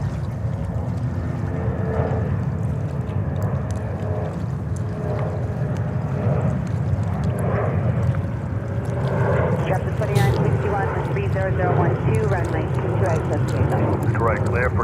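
A Frontier Airbus A321 arriving from Orlando at JFK gives a broad, steady engine roar with wind-like rumble throughout, while someone talks over it.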